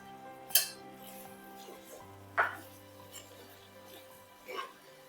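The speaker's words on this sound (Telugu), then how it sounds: "ఇప్పుడు ఇందులో మన క్యాబేజీ బౌల్స్ వేసి కలిపేసుకుందాం" Fried cabbage Manchurian balls are tossed into sauce in a pan, giving three separate clinks and scrapes of a spoon against the metal, spaced a couple of seconds apart over a low steady hum.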